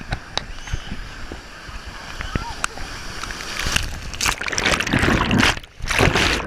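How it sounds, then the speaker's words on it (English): Big wave sloshing back and forth with splashing water, swelling louder toward the end, with people talking and exclaiming over it. "the big wave up, it was just sloshing back and forth"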